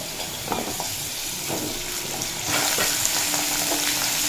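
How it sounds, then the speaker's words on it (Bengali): Potatoes fry over a medium flame, then papaya joins them in the pan and the sizzle grows louder and denser, with light stirring taps throughout. "আলু মিডিয়াম ফ্লেমে রেখে এক মিনিট মতো ভেজে নিয়েছি এরপর এড করে দেব পেঁপে"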